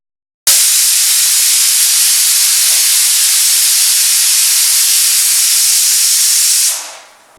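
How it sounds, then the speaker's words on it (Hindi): Steam bursts out with a sudden loud hiss from a pressure cooker whistle while cooking lapsi, holds steady for several seconds, then fades away. "कुकर की 3 सीटी आने तक हम इसे पकाएंगे।"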